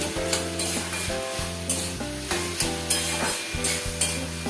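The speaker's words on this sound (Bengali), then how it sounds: "আলুটা ভালো করে ভেজে নিচ্ছি আগে" Potatoes frying in a pan: a close, steady sizzle broken by repeated scraping stirs, with a droning tonal hum running underneath.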